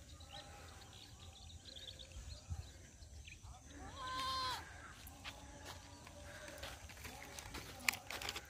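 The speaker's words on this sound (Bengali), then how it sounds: "ভেড়াও আছে এখানে।" Sheep bleating outdoors at a scenic spot in Sylhet, Bangladesh: one drawn-out bleat mid-clip, faint and distant, among soft bird calls and low ambient noise.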